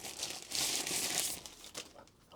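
A paper envelope holding a UGREEN NAS power adapter is opened during an unboxing. The sound is a brief, close, fairly quiet burst of crinkling and tearing rustle.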